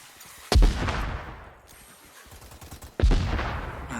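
Gunfire in an online shooter game: two loud, close shots about two and a half seconds apart, each trailing into a long echoing decay, with faint game noise between them.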